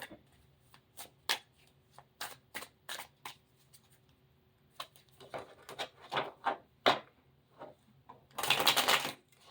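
Tarot cards being shuffled by hand, a series of crisp, close riffles and flicks in irregular bursts with pauses between, ending in a longer dense riffle, quiet and without talking.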